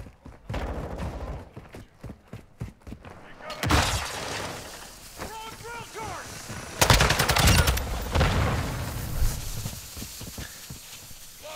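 Gunfire in Modern Warfare II, with a rapid string of sharp shots at the start, then scattered blasts and a dense burst of fire later, mixed with other game noises and brief voice sounds.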